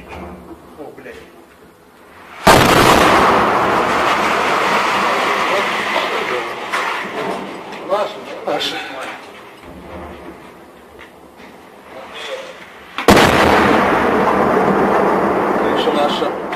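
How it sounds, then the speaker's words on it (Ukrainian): Two heavy artillery blasts erupt as tanks shell Avdiivka, each followed by a long roaring rumble, with quieter voices and background noise in between. "Как наши расстреливают Авдеевку"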